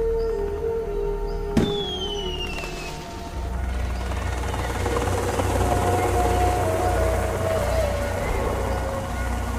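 A helicopter in the adventure video game Hidden Expedition 19 comes in to land in mountain terrain, its steady rotor drone filling the scene at close range alongside a sharp clank and a brief whistling tone.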